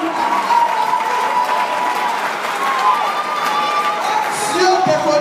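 A church congregation applauding and cheering for God, a dense continuous wash of clapping with shouts and whoops throughout, loud and close.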